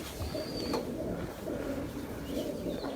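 Soft, low cooing from a racing pigeon hen rolls steadily at close range, a muffled, continuous murmur with faint rustling around it.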